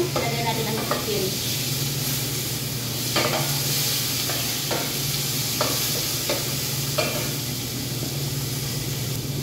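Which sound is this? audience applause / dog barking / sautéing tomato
sautéing tomato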